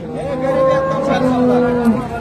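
A cow lows in a long drawn-out moo, close by, amid faint background chatter of the busy Sangola livestock market in Maharashtra.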